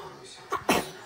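A person gives a short double burst, a small huff followed by a louder explosive sneeze, at close range against a quiet indoor background.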